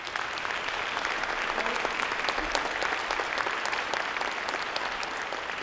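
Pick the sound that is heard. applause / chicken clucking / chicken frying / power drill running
applause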